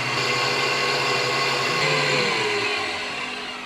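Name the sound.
electric mixer whipping butter for apple cake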